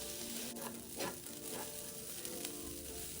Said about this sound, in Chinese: 水沿着锅边倒入，除了呛一呛鑊气，顺道降低锅子热度